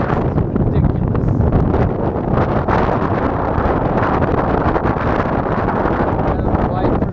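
Strong wind buffets a boat anchored off Lanes Island, roaring steadily and loudly across the microphone throughout, with a starboard motor that had been overheating.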